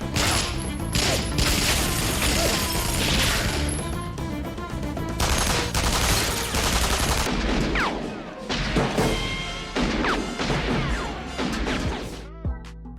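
An action-film gunfight from Driven to Kill (2009) fills the clip, with dense bursts of gunfire, crashes and booms layered over a loud score, continuous and close.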